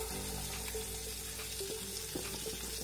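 Butter melting in a frying pan on the stove, giving a steady, soft broadband sizzle and hiss with faint clinks, moderately quiet and unbroken, no voices.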